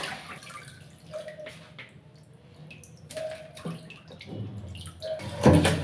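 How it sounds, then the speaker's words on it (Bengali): Raw duck meat being rinsed in water, with light splashing, drips and faucet-like trickles rising and falling in short bursts. A brief surge of water near the end. "এই যে হাঁসের মাংস ধোয়া হয়ে গেল"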